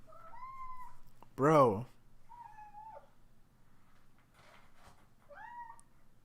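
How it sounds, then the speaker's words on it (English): A cat meows several times, short rising-falling calls spaced a second or two apart, close and clear, while someone speaks briefly between them. "Oh my goodness. Cat."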